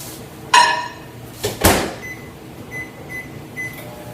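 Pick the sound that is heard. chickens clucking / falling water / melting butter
melting butter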